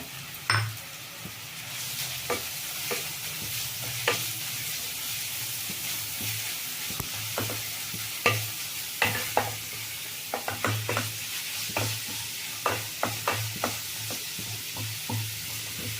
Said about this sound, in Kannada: ಈ ಕ್ಯಾರೆಟ್ನ ತುಪ್ಪದಲ್ಲೇ ಹುರ್ಕೋಬೇಕು.